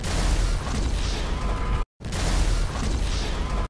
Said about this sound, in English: Let's just say there were a lot of random exploding cars in GTA Online for a while.